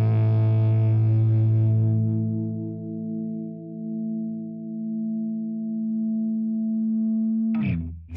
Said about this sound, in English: just to have that crunch without reverb or any other effect on it